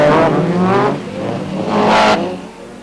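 Rally race cars at the 1993 Trophée Andros ice race at Val Thorens roar past loudly in two close, revving passes with a fading engine drone between them.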